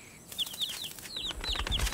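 Mother bird flapping its wings in a cartoon: quick rustling wing flutters mixed with short high chirps, close and moderately loud, with no talk.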